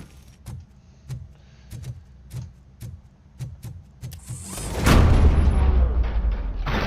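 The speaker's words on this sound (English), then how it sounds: "Gunfire." Gunfire erupts in RoboCop: Rogue City as a loud, dense burst. It follows a steady series of soft, evenly spaced thuds like footsteps, and the harsh roar then carries on to the end.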